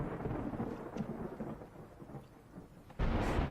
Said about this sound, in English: Oh, she doesn't like thunder.